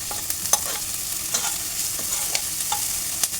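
Capsicum and other vegetables stir-frying in a pan give a steady soft sizzle, broken by light scraping clicks as a spatula stirs them at an uneven rhythm, with no voices.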